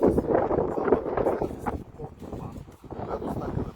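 Wind blows at the entrance of a fortress in a historical park, a steady rumbling gust buffeting the microphone while someone talks over it.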